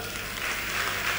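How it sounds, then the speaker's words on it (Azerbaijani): An audience applauds after the announcement of a song, a steady, even wash of clapping that holds at a moderate level through the whole moment. "Alqışlayaq!"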